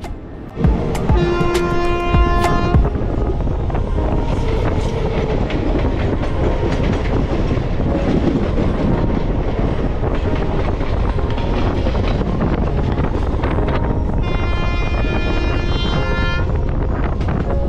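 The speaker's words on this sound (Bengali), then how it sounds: "হাওড়া থেকে 24 কিলোমিটার পথ পাড়ি দিয়ে ট্রেন আমাদের এসে পৌঁছেছে উলবেড়িয়া" A passenger train on the line from Howrah, arriving near Uluberia station, runs steadily and loudly on the rails with continuous rumble, rhythmic wheel clatter and wind noise, plus brief horn-like tonal bursts near the start and again toward the end.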